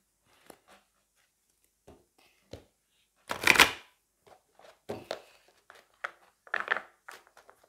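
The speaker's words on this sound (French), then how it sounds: "Alors, je mélange bien, hein, vous m'entendez." A deck of playing cards being shuffled by hand, with scattered soft riffles building to one loud burst of riffling, then several shorter crisp shuffles, close and clear with no talk.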